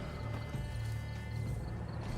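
A horse in the game Witcher 3: Blood and Wine makes steady clip-clop hoofbeats with a low snorting, whinny-like tone over a continuous ambient bed, fairly close and even in loudness.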